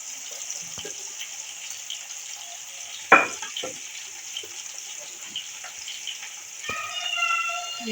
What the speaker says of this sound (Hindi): हम ये थोड़ी सी सब्ज मिर्चें इनको भी साथ ही फ्राई कर लेंगे